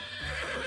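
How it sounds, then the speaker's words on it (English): A horse on a farm gives a brief, loud, shrill whinny with a wavering tone, heard alone and close up. "Horse."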